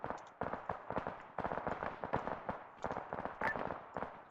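Artillery rounds firing during an Arma military simulation operation, heard as a dense run of sharp bursts and thuds that comes and goes in quick clusters at moderate loudness.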